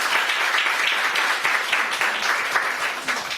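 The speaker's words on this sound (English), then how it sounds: "so I'd like to give her a round of applause." An audience at a conference opening gives a warm round of applause, steady dense clapping with individual claps audible, moderately loud throughout.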